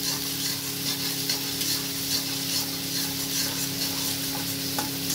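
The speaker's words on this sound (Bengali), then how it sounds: "আমি এবার আদা আর রসুন বাটাটা দিয়ে দিচ্ছি। এই যে, এটাকেও ভালো করে কিন্তু ভেজে নেবো এইভাবে।" Ginger and garlic paste frying with softened onions in a pan, a steady close sizzle with stirring and scraping throughout, no talking and a faint hum underneath.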